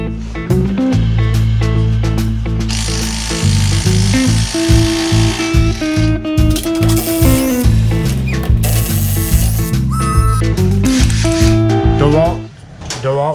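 A DeWalt power tool loosens bolts during a Can-Am Maverick X3 A-arm swap in a garage, giving a loud, continuous buzzing whirr whose pitch shifts in steps as it drives, with voices talking over it.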